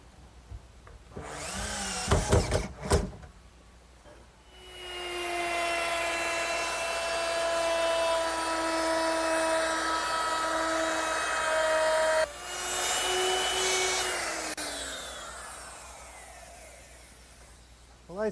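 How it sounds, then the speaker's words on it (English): A power drill drives regular screws into a wooden chest top, starting with short bursts, then a long steady whine that winds down, breaks, and picks up again, loud and close. "I'm ready to fasten it down with some regular screws"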